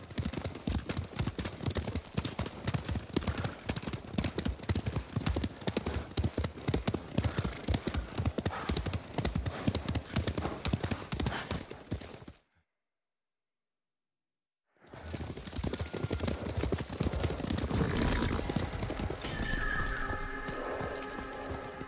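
A horse gallops in the game Ghost of Tsushima, its hooves drumming in a fast, steady clip-clop close by. The hoofbeats cut to a brief silence, then the gallop resumes with other game sounds layered over it.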